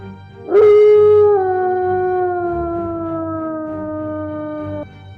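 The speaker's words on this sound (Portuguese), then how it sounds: "soltou um uivo que parecia perfurar a própria alma" A single long, loud wolf howl rising sharply then holding a wavering pitch for several seconds before cutting off, over a low rumbling background.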